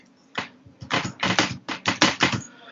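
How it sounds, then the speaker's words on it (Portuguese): Keys clack in quick irregular bursts while a Google search is typed, close and fairly loud, with short pauses between clusters of strokes and no talk. "deixa eu só digitar aqui na pesquisa"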